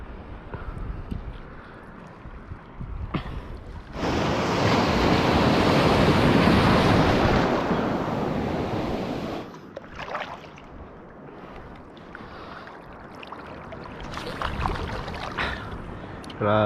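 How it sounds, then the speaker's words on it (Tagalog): Ocean waves crash and rush, a loud surge of surf swelling in the middle and then receding into choppy water and wind buffeting the microphone. "Magpahampas-hampas sa alon."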